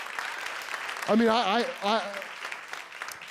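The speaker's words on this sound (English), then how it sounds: "Yeah, you can applaud that, sure." Audience at a live comedy show at Gotham Comedy clapping in a steady, moderate wash of applause while a voice speaks over it.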